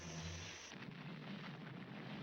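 A cartoon explosion from The Underdog Show roars as a broad, rumbling blast that sustains and slowly decays, heard alone without speech.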